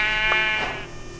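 A short sheep bleat from Minecraft sounds against a steady background tone, one brief wavering cry that fades quickly.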